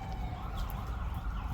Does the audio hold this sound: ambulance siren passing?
yes